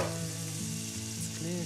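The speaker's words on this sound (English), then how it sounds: "Going in with a tablespoon of butter." A tablespoon of butter sizzles steadily in a hot pan, a continuous close, even crackle with faint tonal hum beneath and no talk.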